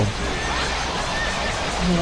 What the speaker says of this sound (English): they're just spawning horses across the hill here